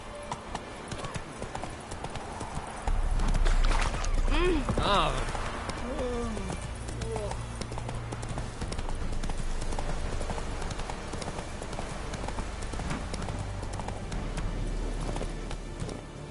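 Roach the horse gallops in The Witcher 3, hooves pounding in a fast steady rhythm close by, with spoken voices and game music layered over it.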